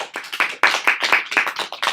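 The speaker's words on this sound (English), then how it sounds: "let's give them a round of applause" A small group claps by hand after a classroom book presentation, a close, brisk burst of individual claps at an uneven rhythm that keeps going the whole time.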